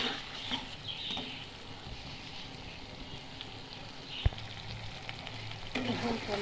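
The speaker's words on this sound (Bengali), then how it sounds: "মাছ ভাজার তেলে আমি সব কিছু ভালো করে ভেজে নিব।" Tomatoes fry in oil left over from frying fish, giving a steady low sizzle and crackle with faint stirring. A sharp single clack lands near the end, and the frying swells slightly louder just after it.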